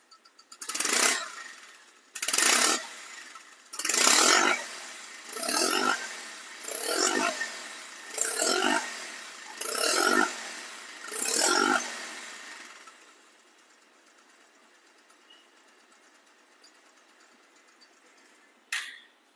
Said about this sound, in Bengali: বাইকটা সাউন্ড করে শুনুন। আগে শুনবেন রানিং অবস্থায় অর্থাৎ স্টার্ট অবস্থায় সাউন্ডটা কেমন